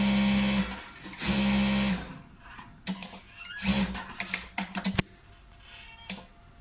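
A Bruce 9825E or Jack 5559WE lockstitch sewing machine set to high speed runs in two short loud whirring bursts, then gives a series of quick clicks and brief stitching pulses.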